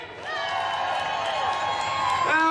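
A crowd at the Manchester Pride community stage on Canal Street cheers and claps, with loud sustained shouts and whoops rising over the applause and peaking near the end.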